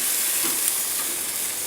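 Steak sizzling steadily on a Browning grill at a campsite just after being flipped, a loud, continuous hiss and crackle of fat close up, with no voices.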